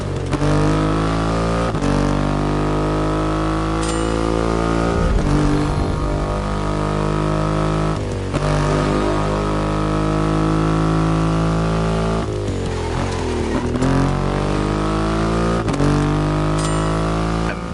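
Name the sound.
Triumph motorcycle engine revving in The Crew Motorfest video game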